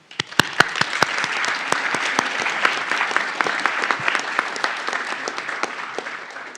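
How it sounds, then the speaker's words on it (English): An audience at a university master's commencement ceremony claps steadily for several seconds, with dense applause and some sharper individual claps nearby, and no voices over it. "So please join me in applauding and thanking them for their part in your"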